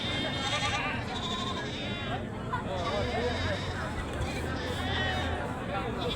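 Goats bleating repeatedly at a busy goat market, several animals calling over a dense crowd babble and nearby chatter.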